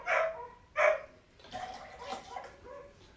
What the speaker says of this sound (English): dogs are going kind of crazy outside